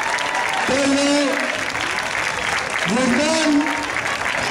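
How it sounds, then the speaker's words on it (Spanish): Audience applause at a bullfighting festival in Casinos, a steady roar of clapping from a large crowd that runs the whole time beneath a voice on a public address system. "Un fuerte aplauso para él, por favor."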